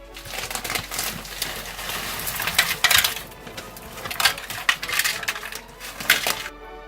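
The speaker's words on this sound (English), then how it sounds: "now we're going to go ahead and sprinkle in some of this frozen corn" Frozen corn kernels sprinkled into a cooking pan, giving a scattered run of light, hard ticks and clatters that come in several bursts over a steady background.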